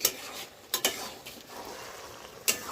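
A bottle gourd and mutton curry cooked with mutton fat and slit green chillies is stirred in a pot, with soft scraping and a few sharp clinks of the spoon against the pot, no voices.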